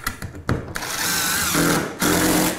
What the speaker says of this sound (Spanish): Y los atornillaré.